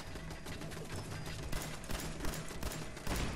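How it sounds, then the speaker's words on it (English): An automated turret in the Fallout 4 video game fires a sustained barrage of gunfire, dense and continuous with louder bursts near the end, filling the scene without any talk. "Oh, it's a turret."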